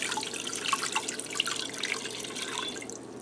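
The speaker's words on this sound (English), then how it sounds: "Now I'm going to add in 4 cups of water." Four cups of water poured into a preheating pressure cooker, a steady splashing, trickling flow with small drips, close and fairly quiet with no talking.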